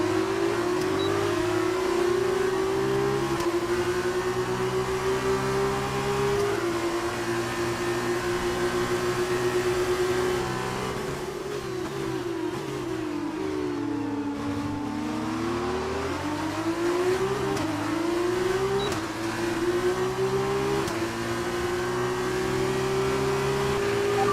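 Race car engines in the F1 2019 video game during an F2 race, a continuous loud high whine rising and falling through gear changes and throttle lifts, sustained over the whole lap with no talking.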